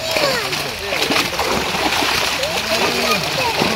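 Large catla fish are released back into a village pond while fishing with hooks, and the water splashes and sloshes close by, with repeated ripples and slaps under chatter from people nearby.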